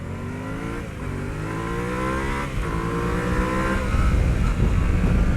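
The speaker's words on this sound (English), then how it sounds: "The cross-plane 2-cylinder engine is a marvel from Yamaha." A 2021 Yamaha Tenere 700 with a cross-plane two-cylinder engine revving and accelerating, its rising engine note climbing in pitch through the gears, loud and close, with no talk.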